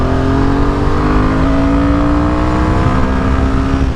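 A Royal Enfield Himalayan 450 motorcycle engine drones steadily while riding, holding a loud, even tone with a slow rising pitch throughout.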